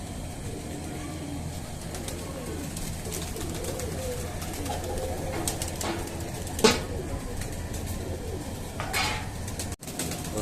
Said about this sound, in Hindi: कुछ अच्छे कबूतर का आपको शो देखने को मिलेगा उस्ताद पप्पू काशनी का